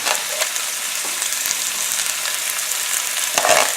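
Onions and peppers for sausage and peppers fry in a pan, giving a steady, loud, close sizzle with occasional stirring scrapes and no voices.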